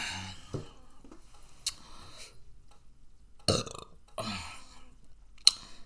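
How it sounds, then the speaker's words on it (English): A person gives a burp after finishing a homemade meatloaf dinner, close-miked and fairly loud, with small mouth and dish clicks scattered around it in a quiet room. "Get a little burp out for my friends."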